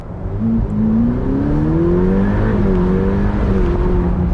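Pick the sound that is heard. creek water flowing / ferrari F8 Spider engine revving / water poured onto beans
ferrari F8 Spider engine revving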